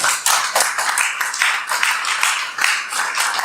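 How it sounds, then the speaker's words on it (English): Audience claps to welcome a speaker to a lecture, a brisk patter of hands with uneven bursts, moderately loud and continuous. "let's welcome Mr. Kendall with a big round of applause"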